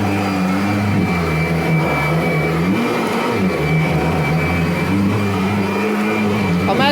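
Kirby Sentria G10 upright vacuum from 2011 running on carpet, its loud motor whine droning steadily, dipping and bogging down under load, then recovering.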